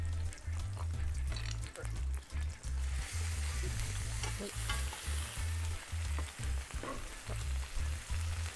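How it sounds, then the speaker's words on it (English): Lamb chops sear in olive oil in a pan with a steady, dense sizzle and crackle, close and continuous, with low rhythmic thumps underneath and a hissing surge partway through. "Searing our lamb, I'm gonna add a little bit more olive oil so we can do both at the same time."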